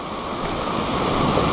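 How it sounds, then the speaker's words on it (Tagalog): Sea waves wash steadily at low tide near a fishing spot, a continuous broadband surf roar with faint wind noise, no voices. "medyo malalaki pa yung alon."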